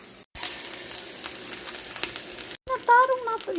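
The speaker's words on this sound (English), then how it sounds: "So here you can hear the searing, you can hear the sounds." Tandoori chicken sears in a hot pan with a loud, continuous sizzle and crackle, broken by two brief cuts, with a voice speaking over the frying near the end.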